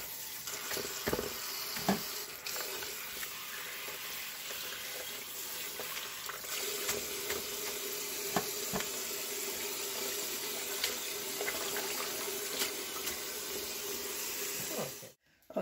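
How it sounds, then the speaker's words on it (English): Tap water runs steadily into a kitchen sink while bok choy is rinsed, a continuous hiss with small splashes and handling knocks throughout, ending with a brief clatter. "And I'll get to do the last rinse."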